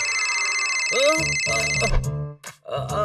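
A telephone rings with a bright electronic tone for about a second, then a voice speaks briefly with short pauses.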